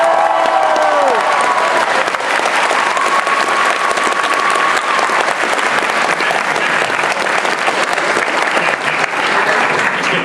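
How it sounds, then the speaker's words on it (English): Loud, sustained applause from a convention audience at an anime event panel, dense clapping that fills the whole stretch without letup. "Applaud."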